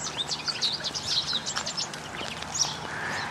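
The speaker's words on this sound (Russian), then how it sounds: "Ой, а здесь птички поют как." Small birds chirping and singing outdoors, a cluster of bright high tweets and trills over a soft background hum, moderately near and lively, no talking.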